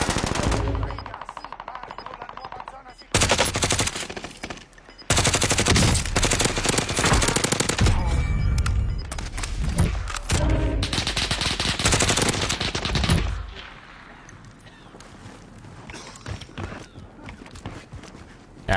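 Rapid machine gun fire in a shooter video game, loud bursts broken by short pauses, with footsteps and quieter game sounds between volleys.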